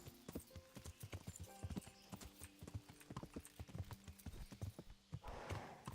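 Hooves clip-clop in a brisk, steady rhythm, a horse trotting along in a video game (Kingdom Come: Deliverance), moderately close with a brief softer patch near the end.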